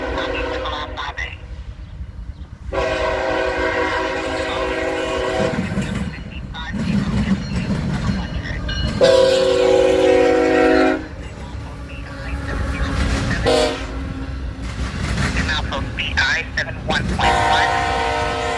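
A westbound CSX freight train rolls through Deshler, Ohio, its horn sounding in loud blasts over the steady rumble and clatter of railcars, with a brief burst of voices on a radio.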